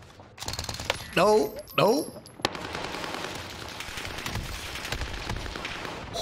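Rapid machine-gun fire from Call of Duty Warzone on Rebirth Island rattles out in bursts, then carries on as dense, steady shooting. A voice speaks briefly over it.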